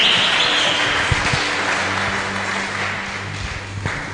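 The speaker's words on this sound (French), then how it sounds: "nous te célébrons par des acclamations au nom de Jésus." A church congregation applauds and acclaims during worship, a steady wash of clapping that is dense and fairly loud at first and gradually tapers off, with some low background sound beneath.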